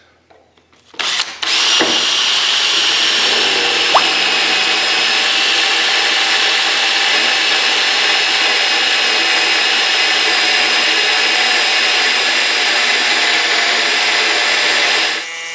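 A power drill fitted with a freshly sharpened bit bores steadily and loudly for about fourteen seconds after a brief start, with a continuous high whine and no talk over it.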